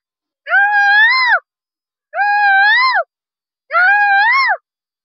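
A boy imitates a peacock three times, each a loud, drawn-out wailing cry separated by short silences.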